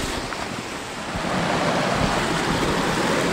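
Rushing water at a waterfall beside a wooden footbridge on a mountain loop trail, a loud, broad, continuous roar that swells slightly partway through, with no voices.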